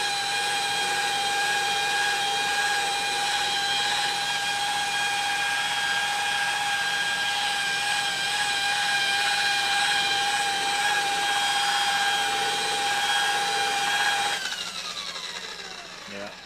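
Buffing wheel on a drill or bench buffer polishing a BMW part, giving a steady high whine with strong tonal bands that runs continuously and then winds down at the end.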